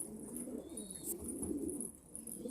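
A wild pigeon coos close by in soft, low repeated calls, heard alone without talk.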